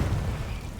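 Confringo fire spell blast in the video game Hogwarts Legacy, a single deep booming burst that hits at once and rumbles away within a second.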